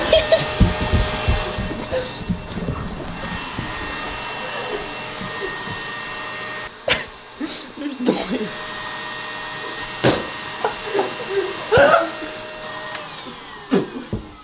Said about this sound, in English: trying to go downstairs with the vacuum